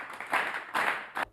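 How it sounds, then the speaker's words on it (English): Brief audience clapping in a talk-show studio styled as a courtroom, three short bursts of applause, fairly faint and fading out quickly. "No clapping in this courtroom"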